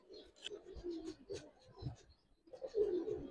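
Giribaz and coloured pigeons coo softly in low, throaty rolling phrases, faint and close, with a brief pause before another burst of cooing.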